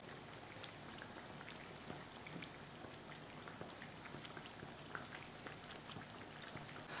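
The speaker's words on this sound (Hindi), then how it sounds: "हल्की हल्की बारिश पै रही है।" Light rain falling outdoors, a faint, steady patter of scattered drops with soft hiss beneath, quiet and continuous with no voices.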